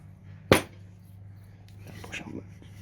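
A single sharp metallic tap from a gentle hammer on a differential part of a Classic Mini Paul Smith MPI near the start, followed by quieter handling noises and faint background hum.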